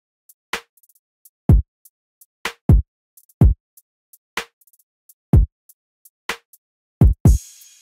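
A sparse programmed electronic drum pattern for a beat with punchy kicks, snappy hits and light ticking hats in a steady groove, ending on a cymbal crash.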